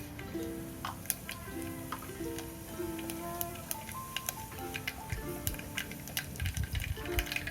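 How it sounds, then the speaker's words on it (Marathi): Mustard and cumin seeds drop into hot oil and crackle with scattered sharp pops and ticks over a soft background hiss, growing busier toward the end, with faint tonal sounds underneath. "आता आपण तेल गरम झालेलं आहे त्याच्यामध्ये टाकणार आहोत पहिल्यांदा मोहरी अर्धा चमचा मोहरी एक चमचा जिरं"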